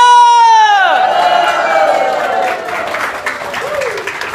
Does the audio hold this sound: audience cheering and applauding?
yes